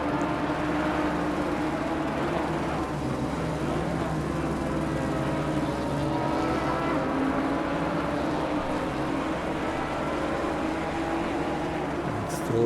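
GT4 race cars, including an Aston Martin, race closely at Donington in May 2021, making a steady, unbroken engine roar and drone that stays loud throughout.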